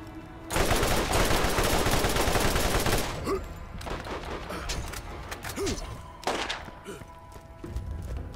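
A loud sustained burst of automatic gunfire in the Borderlands video game for a few seconds, followed by scattered single shots, thuds and whooshing effects as the firing tapers off, with a player's voice talking at times.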